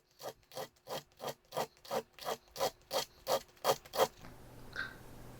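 Coarse 60-grit sandpaper roughs up a titanium ring core in about a dozen rhythmic back-and-forth strokes, close and fairly quiet, then it stops.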